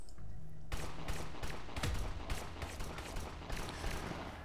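SMG bursts mixed with silenced pistol shots in the PC game Satellite Reign, a dense rapid volley of close gunfire that starts abruptly and continues for several seconds without speech.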